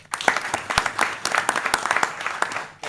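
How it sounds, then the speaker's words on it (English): Audience applause at a city council meeting honoring firefighters, a lively room of scattered, overlapping hand claps with sharper individual claps standing out, continuous and fairly close. "Give him another round of applause."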